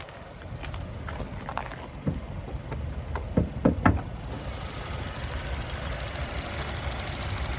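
A 2022 Hyundai Sonata SEL Plus engine idles with a steady low hum, with a few faint clicks early on before the rumble broadens into a constant drone.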